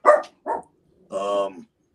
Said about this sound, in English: sorry, the dog's gonna bark